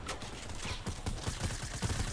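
Rapid bursts of automatic gunfire sound in a battle royale style shooter, quiet and a little distant, with a rhythmic series of low cracks over faint game ambience.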